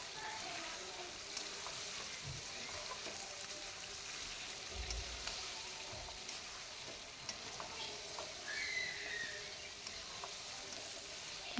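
Chicken curry frying in a pan, a steady loud sizzle with occasional scraping stirs and light clinks throughout, close up, with no talking.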